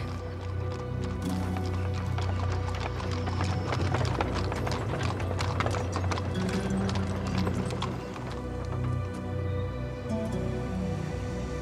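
Horse hooves clip-clop steadily over a full, dense sound bed, with a brief whinny rising among the hoofbeats; the horse seems close and the sound runs on throughout.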